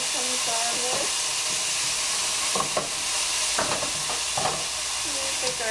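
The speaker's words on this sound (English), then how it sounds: "just brown some garlic" Garlic browning in a hot pan gives a steady, close sizzling hiss, broken by a few light stirring clinks.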